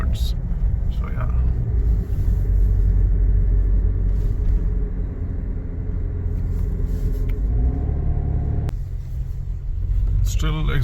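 A Suzuki Jimny driving on a road heading east out of Kathmandu, a steady low engine and road rumble from inside the cabin with continuous tyre noise and a brief shift in tone partway through.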